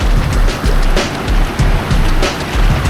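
Strong river water churns and surges at a waterfall, a loud, continuous rush with rhythmic low swells pulsing every half second or so, close and steady with no talk.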